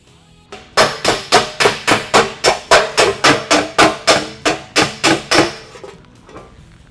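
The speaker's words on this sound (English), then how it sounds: "work this joint with the hammer and dolly in preparation for the finish welding" A hammer strikes sheet metal against a dolly while a welded joint on a car grille shell is worked, with about sixteen sharp, ringing blows in a fast, even rhythm, close and loud, with no talking.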